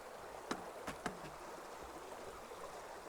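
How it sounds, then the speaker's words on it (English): A stream runs under a bridge in the Northumberland countryside, a faint, steady rushing murmur heard from a short distance, with a few soft knocks or footsteps near the start. "Nice sound of running water now."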